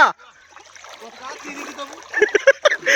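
Water splashes and sloshes as people wade across a river in a rural village setting, with a burst of uneven splashes near the end and voices talking over much of it.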